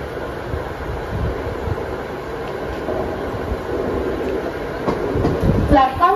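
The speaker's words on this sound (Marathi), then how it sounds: "मुंबई छत्रपती शिवाजी महाराज टर्मिनसला जाणारी धीमी लोकल थोड्याच वेळात प्लॅटफॉर्म क्रमांक 2 वर येत आहे" A Mumbai slow local train arrives at platform 2 of Vidyavihar station, a continuous low rumble and rattle of cars that builds toward the end, where wheel squeal rises, with faint station chatter underneath.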